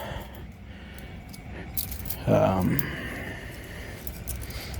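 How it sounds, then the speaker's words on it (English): Car keys for a 1994 Corvette LT1 six-speed manual jangle briefly at close range, a short metallic rattle under a voice. "here are the keys. Let me get them out."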